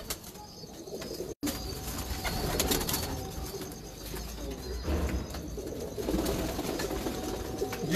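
Breeder pigeons from Ustad Haji Yusuf of Karachi coo steadily among a busy wash of nearby bird noise and rustling, with a brief dropout early on.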